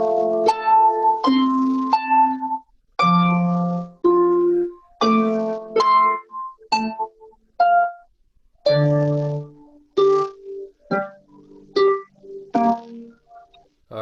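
A harp plays a melody with accompaniment in a higher register, clear plucked notes ringing and decaying in phrases with brief gaps between them, close and alone without talk.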